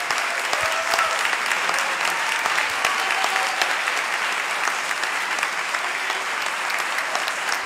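An audience at a business meeting gives loud, sustained applause, dense steady clapping from a crowd filling the room throughout.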